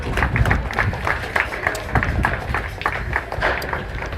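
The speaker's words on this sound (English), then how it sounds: "Let's give a round of applause to the Battiest Panthers." A crowd at a high school baseball tournament claps steadily for the Battiest Panthers, a dense, even patter of hands that carries on without letting up.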